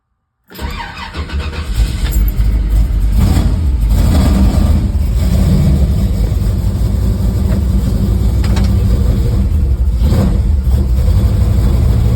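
A 1955 Chevrolet Cameo pickup truck, unstarted for weeks, cranks and fires from cold, then settles into a loud, rough, steady idle heard up close with no talk.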